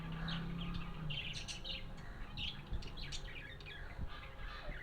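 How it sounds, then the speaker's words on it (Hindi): Parrots chirp and squawk all through a cremation ground that feels like a small zoo. The high calls overlap busily over a steady outdoor background, fairly close, and no one talks. "कितने सुंदर सुंदर तोते हैं,"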